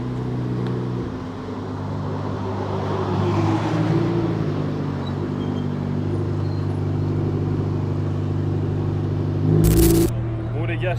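A race car circling a track, its engine a steady loud drone with a brief louder surge near the end, while people talk over it.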